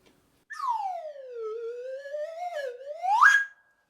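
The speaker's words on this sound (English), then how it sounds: "a little slide whistle" A single slide whistle glides down in pitch, wavers along, then swoops sharply upward to a bright high finish, played alone and clearly.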